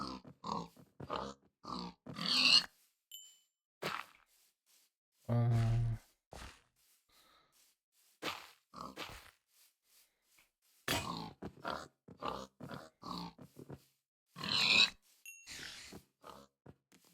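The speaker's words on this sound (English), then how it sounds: "Oh, here's a pig. Oh, a couple of pigs." Pigs grunt in the Minecraft Better Than Wolves mod, short low oinks and snorts coming in scattered bursts amid quiet gaps, with a brief hum of speech.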